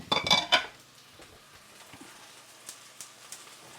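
A metal pan clatters on a stovetop with a quick burst of clinks and knocks at the start, then quieter scattered taps and handling noises as a pan stand is fetched; no talking.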